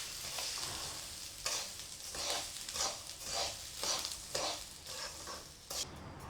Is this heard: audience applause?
no